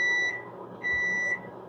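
A microwave oven cooking bacon gives two electronic beeps, each a steady high tone about a third to half a second long, separated by a short pause, clear over a faint room hum.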